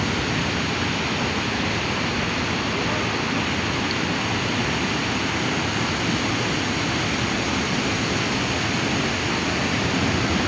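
The Shirya river at Masvan pours over a weir in a continuous, dense rushing roar that holds steady and loud throughout, with no breaks.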